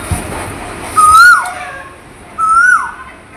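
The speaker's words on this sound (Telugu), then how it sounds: "మా ఇంటి దగ్గర అయితే కోయిల కూకు అని అరుస్తూ ఉంటుంది" An Asian koel calls near a house, two clear rising-then-falling whistled notes about a second and a half apart, loud and close against quiet surroundings.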